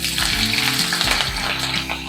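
Green chillies sizzling in hot oil in a pan for Kerala-style masala dosa potato filling, a loud, close, continuous frying crackle without talk.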